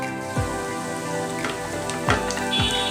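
Steady crackling sizzle of chopped garlic frying in hot ghee, with a few clinks of a utensil against the pan.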